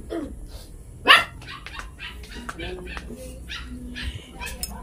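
A dog barks loudly once up close, followed by softer yips and whimpers, with people chatting intermittently in the background.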